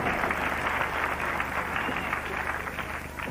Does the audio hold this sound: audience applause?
yes